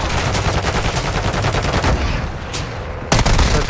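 Rapid bursts of automatic gunfire in a first-person video game crackle loudly and continuously, with a brief lull before a sharp, heavier burst near the end.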